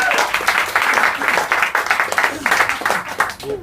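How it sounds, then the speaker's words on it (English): An audience at a poetry event applauds the performers still on stage, a loud burst of clapping with quick uneven pulses and some voices mixed in. "Let's give a round of applause for everyone who's still on the stage."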